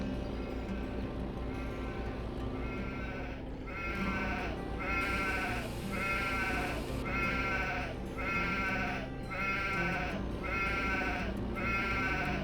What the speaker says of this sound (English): The sheep is laughing at me.